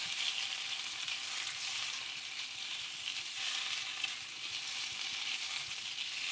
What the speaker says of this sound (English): So now we'll start putting our shrimp.